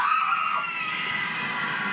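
A woman screams through bed covers in a frightening scene from the 2013 horror film Mama. It is a sustained, strained, high-pitched cry lasting nearly two seconds, loud and alone, with no speech.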